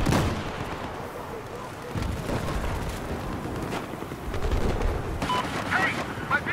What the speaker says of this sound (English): let's throw a grenade over that way